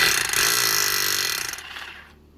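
Hammer drill boring into concrete to set an anchor, a loud close rapid buzzing hammer that runs steadily for about a second and a half before winding down and stopping.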